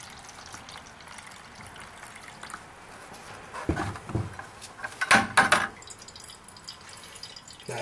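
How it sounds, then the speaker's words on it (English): Hydrochloric acid solution used for recovering gold from electronics is poured, giving a quiet trickle and drips with a few louder splashing bursts, close and without talk. "we're going to start pouring."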